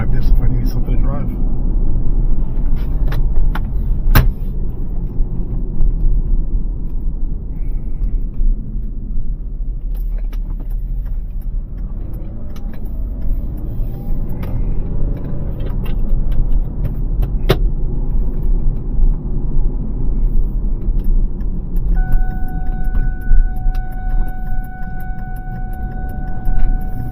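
Ford Fusion driving down the road with a steady engine and road rumble as it shifts up and down through the gears smoothly, a person talking over it.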